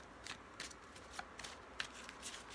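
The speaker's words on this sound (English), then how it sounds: "I'm just shuffling the cards" Soft, quiet riffle of tarot cards being shuffled, a series of light crisp flutters repeating every half second or so.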